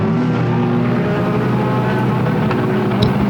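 Race car engines at Flamboro Speedway during the Halloween Enduro 100: a loud, continuous engine roar with drones held throughout and no voice over it.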